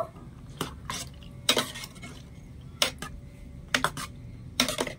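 A spoon stirs semolina pitha batter in a bowl, giving scattered sharp clinks and scrapes against the bowl at irregular intervals over a quiet background.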